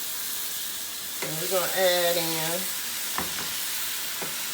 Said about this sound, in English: we let our steak kind of brown on both sides